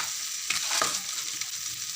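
Cabbage fries in a pan with a steady close sizzle, soft scraping stir noises rising briefly over the hiss, and no voices.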